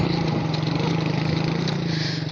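A vehicle engine idles and labors as it is put into first gear, a low, steady pulsing hum with no talk over it.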